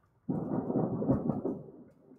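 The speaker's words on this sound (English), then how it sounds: "Oh, it's thundering outside." Thunder outside a room where someone works at a computer, a sudden low rumble that rolls on for about two seconds and fades out, heard indoors and somewhat muffled, with no talking.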